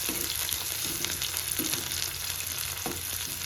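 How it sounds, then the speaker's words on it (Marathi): Green chilies stirred and fried in hot oil for a Marathi thecha, giving a steady close sizzle with scraping stir strokes at intervals and no talk. "त्यानंतर आपल्या मिरची आणि थोडं त्याला हलवून घ्यायचं. तेलामध्ये ते व्यवस्थित मिक्स होतात"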